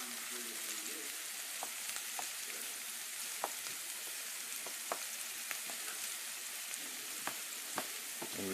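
Chopped onions fry in a hot pan for Mexican rice, a steady close sizzle with scattered pops and crackles and no talking.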